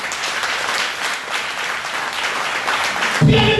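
A church congregation at a Sunday service applauding to acclaim the Lord, dense sustained clapping from many people for several seconds, loud and close, with a brief musical tone entering at the end.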